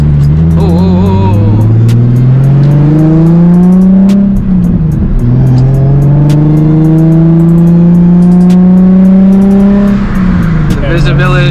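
A Nissan 350Z HR fitted with a Tomei exhaust accelerates hard through the gears from inside the car. The loud engine note rises in pitch, drops at each shift and climbs again, with people talking over it.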